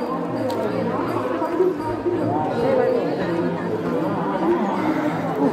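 Dense crowd of devotees at the Mahashivaratri fair in Chhangchhangdi, a steady close hubbub of many overlapping voices and chatter with no pauses.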